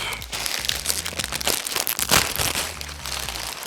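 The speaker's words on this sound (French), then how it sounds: "On va pouvoir du coup ouvrir le sachet numéro 2" A numbered Lego plastic parts bag being pulled open close up, with dense crinkling and rustling of thin plastic and a sharper tearing rip partway through, with no talking.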